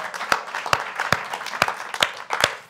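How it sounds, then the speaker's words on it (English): Steady applause from a crowd, dense clapping with a few louder individual claps standing out, continuous throughout. "a round of applause for"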